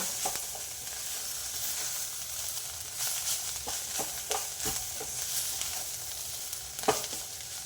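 Bitter gourd stir-fry seasoned with sambar powder and chili flakes, stirred in a pan: steady soft sizzling under a string of scraping spatula strokes and clinks, one sharper knock near the end, no talking.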